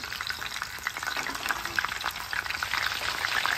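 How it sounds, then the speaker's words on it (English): Barbecue chicken wings, smoked first and left unbreaded, fry in hot oil with a steady, close crackling sizzle and scattered sharp pops throughout. "now we're going to fry the barbecue ones"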